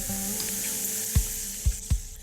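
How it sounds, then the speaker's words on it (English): Steady, dense sizzle of bacon frying in a pan, with a few soft pops and clicks near the end. "look at this sizzling bacon"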